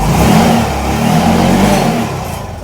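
A TVS XL100 BS6 moped engine revs steadily and loudly nearby, a continuous mid-pitched drone that holds throughout and eases slightly at the end, with no talking.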